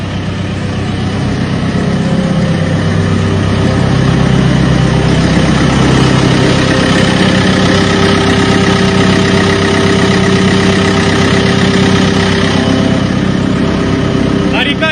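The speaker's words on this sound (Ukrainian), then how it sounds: "Ходімо покажу, як працює мотор." A loader engine idles loudly and steadily up close, a constant low rumble with mechanical hum throughout.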